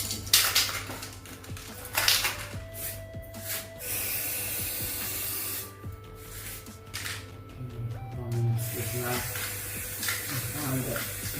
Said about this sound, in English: when you spray and it's this wet, it just locks it into place